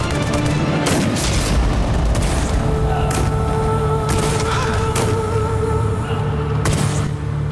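Battle scene in a historical drama series: dense, continuous gunfire and booming blasts fill the whole stretch, loud and close, with repeated sharp cracks standing out over a constant roar of combat.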